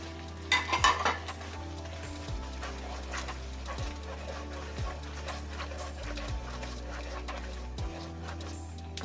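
Southern-style pad thai with shrimp and squid sizzles in a hot pan, with a steady frying hiss and regular scraping stir strokes every second or so, close up.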